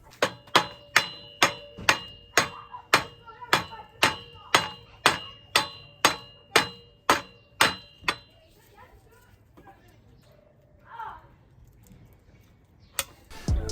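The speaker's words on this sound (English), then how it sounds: "this bearing here is completely seized on. I say completely, it just needs a bit more whacking" Sharp, evenly spaced metal hammer blows, about sixteen in quick rhythm, strike a seized bearing on a retro 26-inch mountain bike, then stop, leaving faint handling noises and a final knock.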